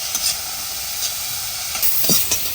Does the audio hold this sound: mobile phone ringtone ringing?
no